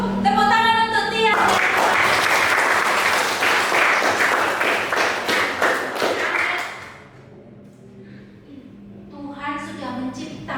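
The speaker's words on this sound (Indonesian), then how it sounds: "Tepuk tangan untuk Tia." A Christian junior high classroom bursts into lively applause for a student, with sharp claps and taps for about six seconds. Then it fades to quieter room sound as a voice begins speaking.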